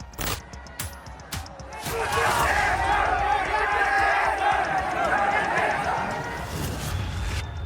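A crowd of protesters in Nepal roars in a sustained, dense mass of shouting and chanting after a few sharp impacts at the start, staying loud and close throughout.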